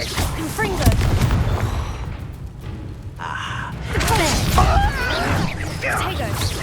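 A fiery Confringo spell blast in a wizarding action game, heavy crashing bursts and rumbling impacts amid chaotic duel effects, with characters' voices shouting over the combat.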